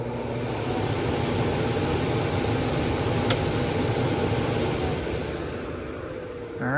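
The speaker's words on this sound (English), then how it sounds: "Sure the blower comes on." A furnace blower motor runs in cooling mode, a steady low whooshing hum of moving air with a faint tonal whine, fairly quiet and continuous, easing off near the end.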